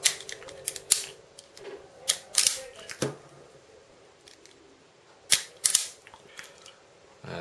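Scissors snip thin wire during an IP camera modification, giving a series of sharp, close metallic clicks in irregular bursts. Quiet gaps fall between the cuts, and there is no speech.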